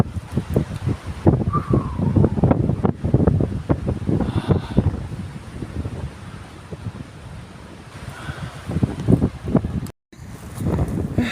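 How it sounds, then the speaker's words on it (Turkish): Strong wind buffets the microphone in loud, irregular gusts during a storm at the Onobara ancient city in Antalya, with a roaring rush that rises and falls throughout. "Bir de acayip rüzgar var, fırtına var."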